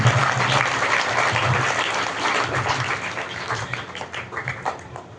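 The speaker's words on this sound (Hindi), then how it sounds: "जोरदार तालियां इनके परिवार के लिए।" A crowd claps loudly and steadily for several seconds at an award ceremony honouring a student, the applause thinning slightly toward the end.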